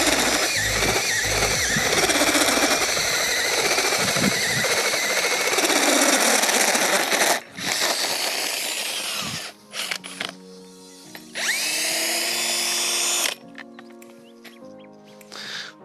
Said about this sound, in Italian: dobbiamo ancora fare qualche giro di trapano per ultimare il foro